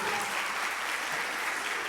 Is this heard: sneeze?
no